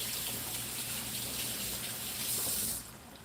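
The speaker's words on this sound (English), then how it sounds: "Let me rinse my hands off." Tap water runs steadily as hands are rinsed under a kitchen faucet, a close, continuous splashing gush that cuts off near the end.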